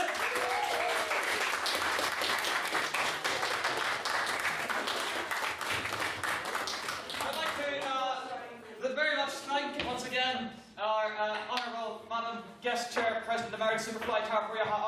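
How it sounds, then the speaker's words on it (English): Audience applause fills a debating chamber, a dense sustained clapping that gives way to scattered individual claps as it thins out, with a voice speaking over the later part. "Can we please give her a big round of applause?"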